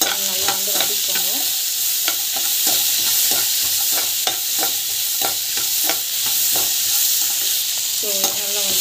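Raw plantain sautéing with chilli and salt for valakai poriyal: a steady, loud sizzle with repeated spoon scrapes and stirring taps across the pan, continuous throughout.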